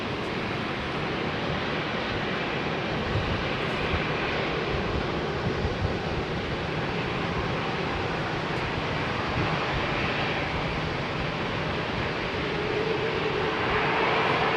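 A jet airliner taxis out for departure at London Heathrow as smoke from local fires drifts over the airport, producing a steady, broad engine roar that runs unbroken throughout with some wind buffeting.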